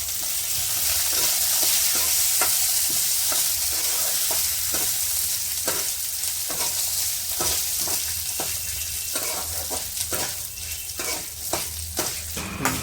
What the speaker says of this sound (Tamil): கடலைப்பருப்பு உளுந்து வந்து வறுத்துட்டு இருக்கோம்.